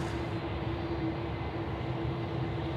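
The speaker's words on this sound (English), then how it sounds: "Jetstar A320 now coming out here at Bravo 2 for departure off runway 16 right" A Jetstar Airbus A320 taxis out for departure at Sydney Airport at night, its engines giving a steady, loud whine and broad rumble that holds constant throughout, with no talking.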